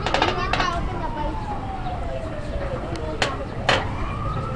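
A fire engine siren wails as the fire truck arrives at a house fire in Balagtas, Bulacan, a falling tone sweeping through the clip with sharp bursts, heard amid crowd noise and voices nearby.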